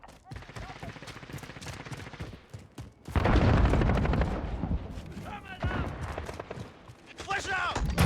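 Rapid gunfire bursts in Call of Duty: Modern Warfare hardpoint play, loud and close, with heavy volleys rising after a lighter stretch, alongside in-game voice callouts.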